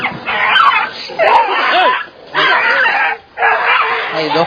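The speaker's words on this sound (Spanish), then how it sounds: "Hay dos perros peleándose." Two dogs fight in a burst of snarls, yelps and whimpering cries, coming in four loud, close flurries separated by brief pauses.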